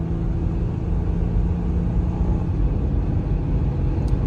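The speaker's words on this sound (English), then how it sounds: "So we're accelerating." Vehicle accelerating smoothly on the road, a steady low rumbling engine and road drone, continuous and fairly loud throughout, with no talk over it.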